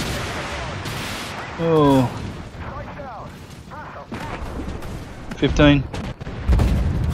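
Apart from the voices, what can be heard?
gunfire and explosions in a video game battle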